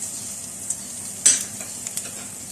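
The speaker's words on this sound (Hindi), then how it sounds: "जीरे को इसमें हल्का सा फ्राई करने के बाद जो आलू जिनको हमने अभी मोटा मोटा इसको मैश किया है ये सारे आलू इसमें डाल देंगे" Cumin and coarsely mashed potatoes for samosa filling are frying in a pan, giving a soft continuous sizzle broken by a sharp scrape and a few light knocks of the spoon being stirred through, without any talking.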